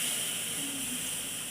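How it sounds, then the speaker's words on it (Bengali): A hot kadai on a stove sizzles with a steady, loud, broadband hiss that holds evenly through the short moment, with no talking over it. "এই দেখো কড়াইটা বেশ ভালো রকমের গরম হয়েছে, সে কারণে ছ্যাং করে দিল"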